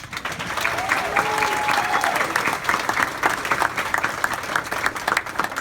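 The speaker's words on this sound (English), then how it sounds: "Let's first give a round of applause to Dave, Gene, Lori, Billy, Terry, and all those who helped making this day sp" Wedding guests applaud at the reception, a full, close burst of many hands clapping together, with a brief cheer rising over the clapping near the start.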